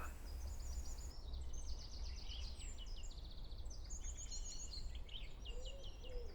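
Small birds chirp and trill in quick overlapping phrases over a steady low hum, part of a calm, continuous outdoor soundscape with no voices.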